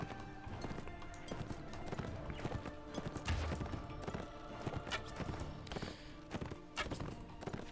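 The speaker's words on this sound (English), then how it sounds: "cavalry should just be able to chase them down with their fast horses" Horses gallop across a battlefield in the Warsword Conquest mod for Mount & Blade Warband, a dense, steady clatter of hooves with occasional whinnies under battle noise.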